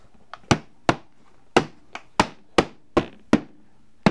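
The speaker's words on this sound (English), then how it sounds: "if you sell items in plastic buckets, is you want a rubber hammer." A rubber hammer strikes a plastic bucket lid to seal it in about nine sharp, distinct knocks, some lighter taps between them, close and loud against a quiet room.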